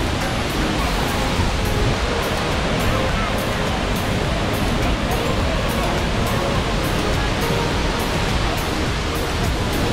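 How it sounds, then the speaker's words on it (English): Whatchachan waterfall in Doi Inthanon National Park, Thailand, pours in a dense, unbroken roar of rushing water, loud and close for the whole stretch. "Whatchachan waterfall."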